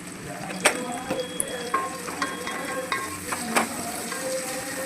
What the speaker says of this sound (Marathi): कांद्याला चांगला फ्राय करून घ्यायचं.